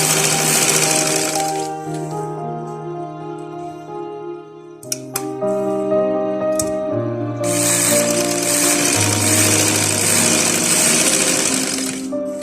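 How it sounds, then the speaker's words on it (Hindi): A sewing machine runs in steady rapid bursts as it stitches trouser fabric, pausing briefly in the middle before starting again, close and alone. "इसी तरीके से हम इसको सिलाई लगाएंगे"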